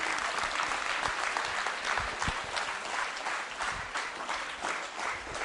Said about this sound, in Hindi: बिल्कुल सही उत्तर, तालियां जोरों से बजाइए।